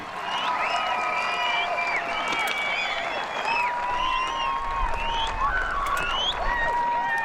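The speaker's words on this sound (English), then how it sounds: "Let's give one big round more applause to this amazing group of people" Audience applause at a high school commencement ceremony for the class of 2022, a steady dense wash of clapping that holds evenly throughout, with scattered whistles and cheering voices rising over it.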